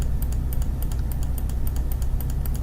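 Rapid, evenly repeated computer mouse clicks during drawing software work, a steady run of sharp close ticks over a low hum, with no talking.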